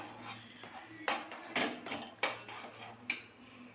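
A spoon scrapes and knocks against a pan while rava kesari made with jaggery and cashews is stirred, giving about five distinct metallic clanks over a low background, and a person talks over it.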